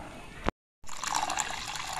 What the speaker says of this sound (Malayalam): ഇനി ഇതിലേക്ക് നമുക്ക് 2 ഗ്ലാസും കൂടി വെള്ളം ഒഴിച്ചതിന് ശേഷം വേണം കുറുക്കാൻ കേട്ടോ.